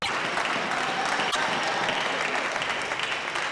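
A squash crowd at the 2012 World Open in Russia, during a men's quarter-final, breaks into dense, sustained applause that stays loud and steady from start to finish with no voices over it.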